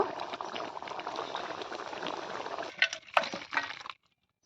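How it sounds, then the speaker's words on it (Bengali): A pot of chicken kosha gravy boils hard with dense, continuous bubbling and popping. The bubbling then breaks into a few clinks and splashes before falling silent. "ঝোল ভালো করে ফুটে গেছে"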